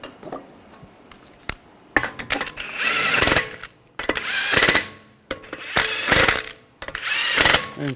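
Bursts of a power tool snugging down control arm bolts on a 2009-2010 BMW 535i xDrive, several loud whirring runs of a second or two each with short pauses between, close up.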